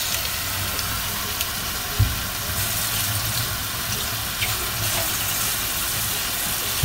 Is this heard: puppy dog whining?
no